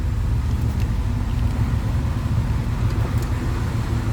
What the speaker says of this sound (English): Nothing crazy over the top as far as the exhaust goes. Just a nice rumble coming to that small block Chev.